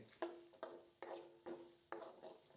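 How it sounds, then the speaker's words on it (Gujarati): Khichdi with toor dal and finely chopped carrot is stirred in a pot, giving five or six evenly spaced scraping strokes over a faint sizzle, quiet and close, with no voices. "અને જે આપણી તુવેરની દાળ હતી એને પણ થોડી આપણે એડ કરી દઈએ અને અત્યારે એક વખત એને હલાવી દઈએ"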